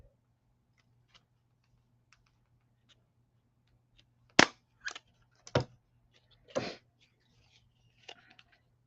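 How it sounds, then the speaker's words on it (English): A stapler snaps through paper on a treat sleeve in several sharp, close clicks and crunches, a handful of isolated hits against a quiet background hum. "We're just going to staple it"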